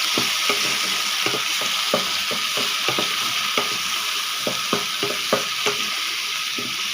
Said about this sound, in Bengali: এখন আমি আদা রসুনটা হালকা কাঁচা গন্ধ যাওয়া পর্যন্ত ভেজে নেব